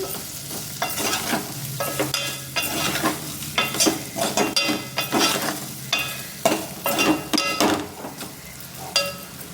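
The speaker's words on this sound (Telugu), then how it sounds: "ఈ కారం కూడా 2 నిమిషాలు ఫ్రై చేసుకుంటే సరిపోతుంది" Chili powder fries in oil in a pan for ridge gourd pulusu while a spoon stirs it, with repeated close scraping strokes in an uneven rhythm over a steady soft sizzle and no voices.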